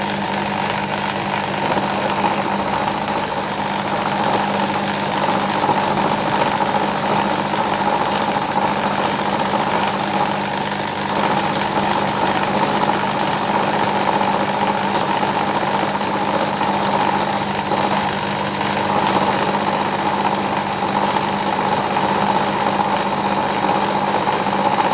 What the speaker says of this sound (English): we're looking at about 800-900 RPM for steel using this size cutter.